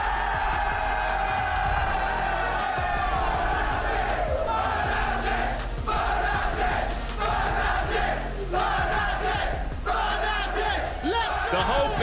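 Large crowd at a League of Legends Worlds viewing event in London's HQ cheering for Fnatic, a loud continuous roar of shouting and chanting voices that swells and dips throughout.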